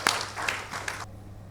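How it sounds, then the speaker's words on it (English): Brief applause from an audience at an IIM Bangalore campus panel welcoming the moderator, a few seconds of clapping that breaks off abruptly into quiet room tone. "With a thunderous round of applause"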